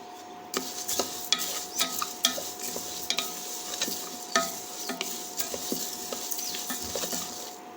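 Spices such as asafoetida, cinnamon, turmeric and fenugreek with groundnuts being stirred and dry-roasted in a pan for amla masala powder: repeated scraping clicks of a spoon against metal over a faint sizzle, close and steady, no voices.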